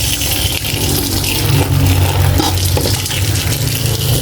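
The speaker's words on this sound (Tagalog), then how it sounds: "Huhugasan natin siya sa tubig para malinis" Running water gushes and splashes loudly and continuously, with sloshing as an eggplant is rinsed close by.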